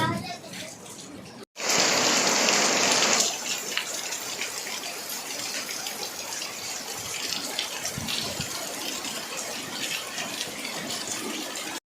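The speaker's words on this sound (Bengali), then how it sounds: "বিশাল বৃষ্টি হচ্ছে" Heavy rain pours outside an open veranda and patters onto a polythene sheet, a dense, steady rushing wash that follows a brief louder gush near the start.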